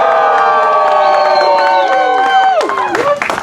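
An audience at a Tempest theatre show hoots and cheers loudly and close by, with long overlapping voices that rise and swoop together, ending in a burst of cheers.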